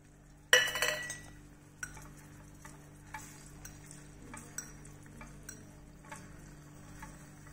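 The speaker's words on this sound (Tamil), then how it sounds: "இப்போ பச்சை மிளகாவையும் போட்டுக்கலாம்" Green chillies frying in a pan for biryani, with a sharp clatter of a spoon against the pan at the start, then soft, faint sizzling and occasional light stirring taps near and alone.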